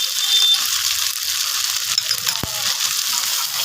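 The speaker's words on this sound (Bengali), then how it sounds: "মশলাটা আগে একটু কষিয়ে নিচ্ছি" Spice paste with chili for Kashmiri aloo dum frying in a pan, a steady hissing sizzle with soft stirring scrapes and one sharp knock partway through, close and moderately loud.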